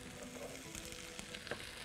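Bell peppers frying in butter and oil for seafood paella, a soft continuous sizzle with faint crackles throughout, fairly quiet and with no talking.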